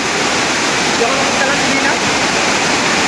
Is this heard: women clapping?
no